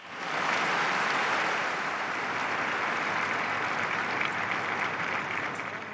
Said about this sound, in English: the applause rang out inside the basilica and in the streets beyond